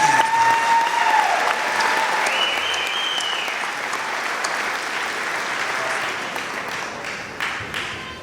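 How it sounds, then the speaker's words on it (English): Sustained audience applause fills a large hall at a senior awards ceremony for a vocational program, steady and dense throughout with a brief tone near the start and no speech over it. "Could we please have another round of applause for the Industrial Mechanics program?"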